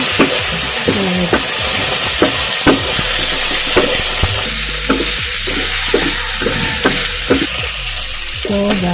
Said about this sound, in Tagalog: Dahil umaano na ang ating sibuyas bawang, ilutuin na haluin natin sa ating pork.